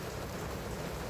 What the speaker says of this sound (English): It's raining outside, so just Just bear with the background noise.